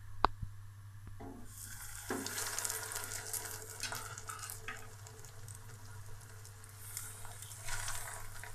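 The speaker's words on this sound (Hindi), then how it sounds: "अब हम इनको फ्राई कर लेंगे।" Egg- and breadcrumb-coated potato kababs (aloo tikki) frying in hot oil over medium heat, a steady close sizzle with crackling swells and occasional clinks, no speech.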